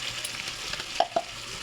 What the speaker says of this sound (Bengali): এখানে যে তোমার পোস্ত কাঁচা লঙ্কা বেটেছিলাম ওটা দিয়ে দিচ্ছি